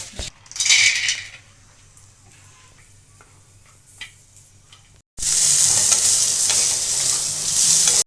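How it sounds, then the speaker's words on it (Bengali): Peanuts frying in a pan in a home kitchen, with a loud steady sizzle filling the last few seconds after quieter stirring and clinks of a utensil against the pan. "একটু বাদামটাকে ফ্রাই করে নেবো"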